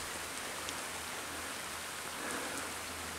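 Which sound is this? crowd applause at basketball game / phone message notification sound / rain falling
rain falling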